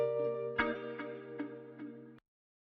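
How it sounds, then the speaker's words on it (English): A chopped electric piano sample from Splice plays a sustained chord with soft repeated rhythmic accents, then cuts off abruptly into silence. "I found this E-piano sample from Splice and chopped it"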